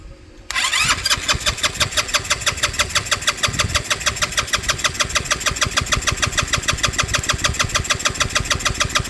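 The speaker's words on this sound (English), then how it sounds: "so I'm just gonna jump over with the positive on the starter here." A Honda Ruckus scooter engine with a bad solenoid cranks when its starter is jumped, then catches and runs in a fast, steady, close puttering idle, no talk.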